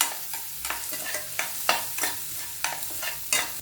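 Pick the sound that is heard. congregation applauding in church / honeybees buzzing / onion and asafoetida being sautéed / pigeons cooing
onion and asafoetida being sautéed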